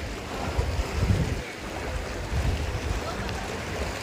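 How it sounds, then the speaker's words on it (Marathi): Small waves lap and slosh against a floating bridge on Pawana Lake near Lonavala, a low, steady watery wash with gusts of wind noise, fairly close and without talk. "या काही लाटा मारते"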